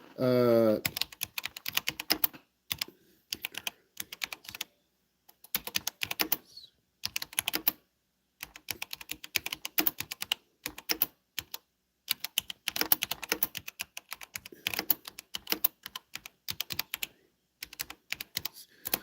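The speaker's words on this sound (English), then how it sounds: "I typed in social service programs for people who want to drive in Mississippi. And I'm typing this in right now." Someone types a search into Google on a computer keyboard, producing close, quick bursts of key clicks with short pauses between words and a brief voice at the start.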